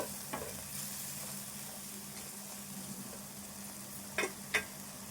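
Masala being stirred in a pan for prawn curry, a steady low sizzle with a few scraping spoon strokes near the end, close and without talk.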